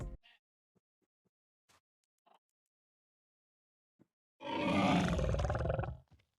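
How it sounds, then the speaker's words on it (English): A loud, drawn-out guttural roar of about a second and a half from a Minecraft hoglin transforming into a zoglin, following a few faint, scattered clicks and snorts, then silence. "hoglins now have their own sound when transforming into zoglins"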